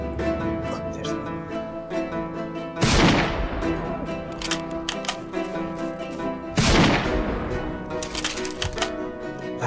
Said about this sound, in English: Are they drawn in to the gunshots?